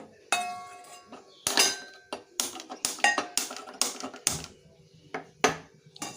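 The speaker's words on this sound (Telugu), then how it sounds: "స్టవ్ మీద గిన్నె కళాయి పెట్టుకుని స్టవ్ ఆన్ చేసుకుందామండి" A metal kadai pan is set on a kitchen stove while cooking fish curry, producing a run of sharp metallic clanks and clinks at irregular intervals, close by.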